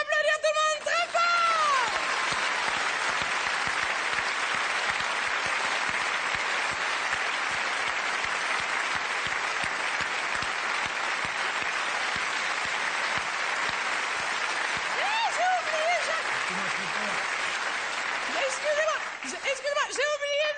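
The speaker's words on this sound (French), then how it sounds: "Je vous demande d'applaudir tout le monde très fort." Sustained, thunderous theatre applause for the crew after a comedy show, a thick wall of clapping lasting about twenty seconds, with voices calling out near the start and again toward the end.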